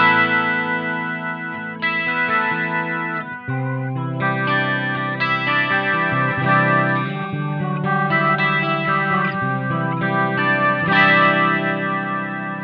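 An electric guitar playing chords and single notes through a BOSS MO-2 Multi-Overtone pedal that stacks shimmering overtones above each note, sustained and loud, with no talking.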